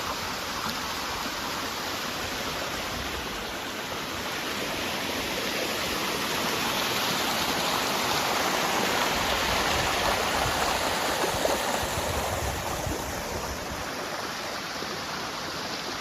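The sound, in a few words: waterfall beside the mill near Chamberlin covered bridge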